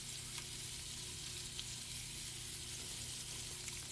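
Beef short ribs sear in olive oil in a pan, giving a steady, dense sizzle and crackle close by that holds even throughout with no talking.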